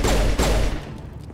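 A rapid-fire railgun pistol in Mass Effect Legendary Edition lets off two loud, sharp synthetic shots in quick succession, each with a brief ringing tail.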